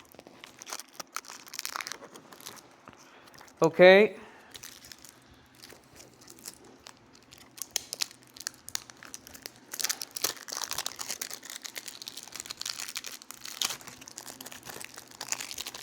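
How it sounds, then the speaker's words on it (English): Plastic packaging on a hair clipper is unsealed with one brief loud crinkling rip, followed by quieter scattered rustling and handling of the wrapper; a single short spoken word is heard. "Unseal the clipper, yes, because it's made from another plastic here."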